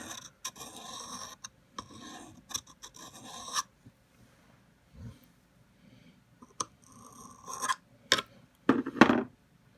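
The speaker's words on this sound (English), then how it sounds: "I'm just going to take a screwdriver, run it through here." A screwdriver is worked through the spring-loaded mechanism of a Commodore PET 4040 disk drive, giving close rasping scrapes in short bursts, then a pause and a few sharper scraping strokes.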